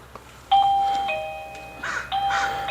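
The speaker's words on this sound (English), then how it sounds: "So you press the doorbell." A doorbell camera's button is pressed and rings with a clear electronic ding-dong chime, two bright tones sounding close, followed by softer rustling and another chime tone.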